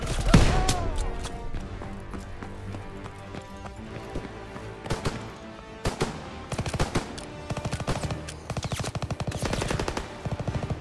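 Rapid bursts of gunfire and scattered single shots, including a shotgun, crackle through a World War II battle in Call of Duty WW2, dense and continuous over game ambience with no talk.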